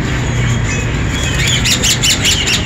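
Harsh, rapid pigeon squawks ring out over a constant noisy background at an egg market in Saddar, Karachi, coming in quick repeated bursts toward the end.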